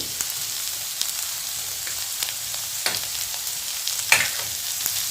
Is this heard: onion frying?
yes